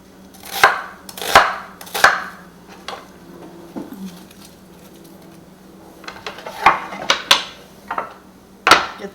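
Onion pieces break apart and drop into a pan in a quiet kitchen, giving a run of sharp, close knocks and clatters in irregular clusters with short pauses between.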